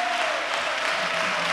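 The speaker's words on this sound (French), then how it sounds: "commence à applaudir très fort le Seigneur Jésus." A congregation at a French-language prayer service claps and applauds, a continuous wash of clapping with a faint voice or tone lingering beneath.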